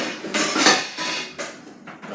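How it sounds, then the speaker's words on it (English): Dishes clatter as a bowl is pulled from a kitchen cupboard for cake baking, a few close, sharp knocks and clinks of crockery with no talking. "I think I need a bowl, so I'm going to get a bowl."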